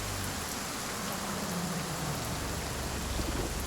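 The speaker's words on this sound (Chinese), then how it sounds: "现在又下雨了" Steady rain falling on surfaces outdoors, a dense continuous hiss with a low rumble, alone and without voices.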